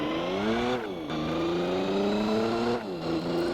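A land-speed-record car's engine roars loudly in Gran Turismo 4, holding a steady high drone with two quick gear-change dips where the pitch drops and climbs again, close and alone without talk.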